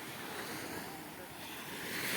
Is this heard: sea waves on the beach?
yes